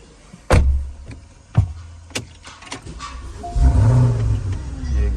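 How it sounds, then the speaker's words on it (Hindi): 2013 Porsche Cayenne starting up, preceded by several sharp clicks and thumps, then the engine catching into a low rumbling idle that continues to the end. "ये गाड़ी स्टार्ट हो गई है"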